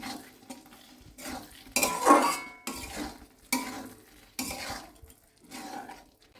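Spoon stirring palak paneer in a metal pan, a run of repeated scraping and clattering strokes against the pan with soft sizzling between them.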